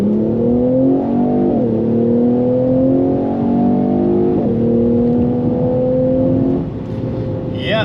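A Mercedes-Benz E43 AMG launches hard from a standstill with the throttle floored. The loud engine roar climbs steadily through each gear and drops briefly at every shift, heard up close from inside the car with no one speaking.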